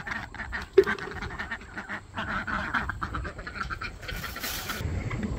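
Ducks quack in a low, steady jumble of short nasal calls in a vegetable garden, fairly faint and continuous, with outdoor rustling and a brief louder burst near the end.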